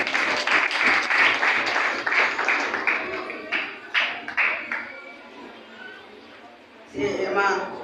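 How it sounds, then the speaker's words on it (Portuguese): A church congregation claps for a few seconds in a dense burst that breaks into a handful of separate louder claps and fades, before a voice begins speaking. "Vamos apoiar a nossa irmã com uma salva de palmas para destinar a Deus."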